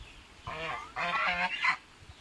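Several loud goose honks close by from domestic geese, a harsh nasal call followed by a quick run of honks, with a quiet background between them.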